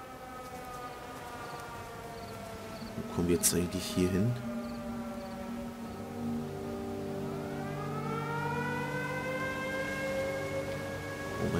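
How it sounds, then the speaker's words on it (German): Wailing sirens in the video game Everybody's Gone to the Rapture rise and fall steadily throughout, a sustained layered drone beneath someone talking, with a brief burst of footsteps or rustling midway. "Und die Sirenen laufen immer noch."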